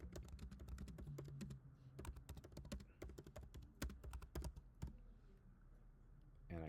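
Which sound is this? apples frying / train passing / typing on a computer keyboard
typing on a computer keyboard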